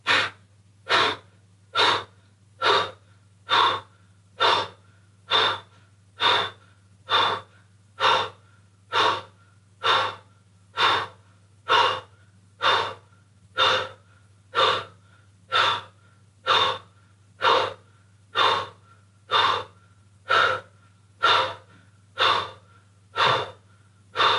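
Kapalabhati yoga breathing, also called skull shining breath: close, forceful exhalations pump out in a steady rhythm of roughly one per second, about twenty-eight in all, with quiet pauses between them and no talking.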